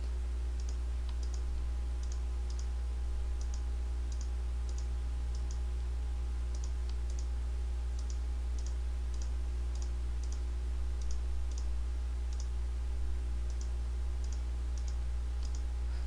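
Computer keyboard keys and mouse clicking during image editing in Photoshop CS4, a steady series of light, close clicks spaced every half second or so over a constant low electrical hum.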